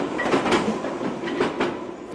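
London Underground tube train running on track nearby, a loud continuous rumbling roar with rhythmic wheel clatter and faint squeal, no voices over it.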